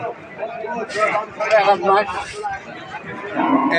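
A cow or young calf at a livestock market where cows and calves are being sold, with a short low moo rising out of steady crowd chatter and bargaining voices, close and moderately loud.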